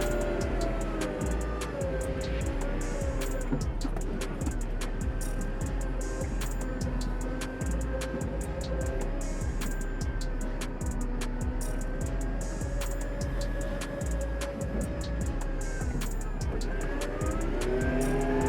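A tractor climbing a steep slope: a steady, loud engine drone runs throughout with a rumbling low end and occasional rising revs, like a heavy vehicle labouring along.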